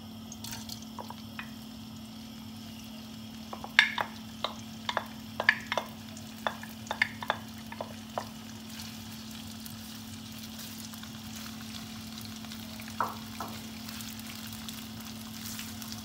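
Shrimp frying in a hot wok for a Chinese shrimp and broccoli dish, a low steady sizzle under a constant hum, broken by scattered sharp pops and spatters clustered in the middle, with no talking.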